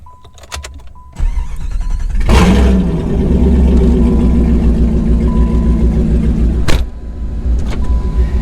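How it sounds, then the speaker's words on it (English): A one-ton Jeep ZJ on a test drive: power windows whir, then the engine rumbles and revs steadily for several seconds, with a couple of sharp clicks and knocks from the cabin. "let's go take it for a test drive, and we'll see what's up"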